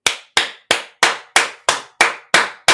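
Nine sharp hand claps land at a steady, even pace, each one loud and close with a quick decay, with no voices alongside.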